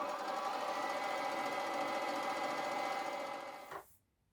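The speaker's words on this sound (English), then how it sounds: "So we're going to sew 1 centimetre seam allowance down both side seams." A sewing machine runs in one steady, even whir as it stitches the side seams of loungewear pants, close and continuous, then slows and stops near the end, with no talking.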